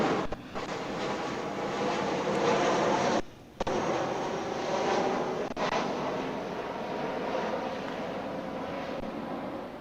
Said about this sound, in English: And another flyover here at Northeast Delta Dental Stadium.